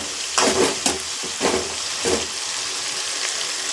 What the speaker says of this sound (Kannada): ಇವಾಗ ನೋಡಿ, ಟೊಮೆಟೊ ಚೆನ್ನಾಗಿ ಫ್ರೈ ಆಯಿತು.